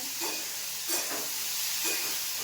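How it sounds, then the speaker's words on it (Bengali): Chopped potato, beans, carrot and onion fry in a hot pan, giving a continuous bright sizzle and hiss with soft periodic swells as the vegetables are stirred. "আলু, বিনস, গাজর, পেঁয়াজ, এবার ভেজে"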